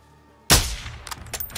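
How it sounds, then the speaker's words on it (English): A single sniper rifle shot in Call of Duty, a sharp loud crack followed by a short rumbling echo and faint clinks. "Oh shit, look at the bullet drop. I shot this dude's legs off."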